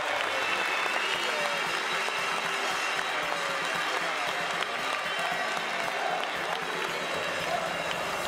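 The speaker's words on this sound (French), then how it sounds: "et les applaudissements du public" Steady, dense applause from a crowd at a champions' photo ceremony, sustained and even throughout with faint cheering mixed in.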